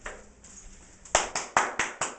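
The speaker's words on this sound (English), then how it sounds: "Big round of applause for Nick there." Claps for a special guest on a fantasy football show: after a quiet, hissy lead-in, about six sharp, evenly spaced hand claps ring out close and fairly loud, each one decaying briefly, with no talking over them.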